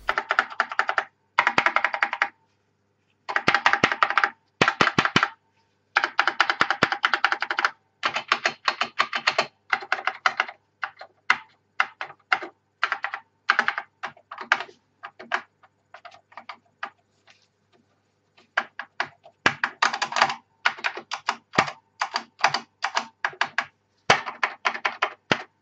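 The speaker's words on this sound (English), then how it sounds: "It's a Honeywell micro switch model 78SD11, and the switches are Honeywell Hall Effect." Rapid keystrokes on a vintage Honeywell micro switch 78SD11 mechanical keyboard with Hall Effect switches and thick double-shot keycaps, close and crisp, in bursts of fast typing with short pauses between.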